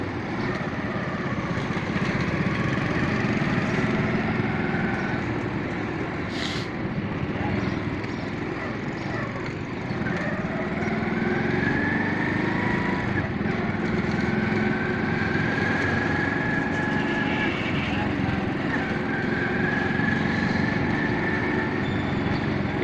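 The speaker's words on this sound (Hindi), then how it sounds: "मैं एक हाथ से बाइक चला रहा हूँ" A motorbike engine drones steadily throughout a ride in the Taj Bagh area, with wind and road noise, while a person talks over it.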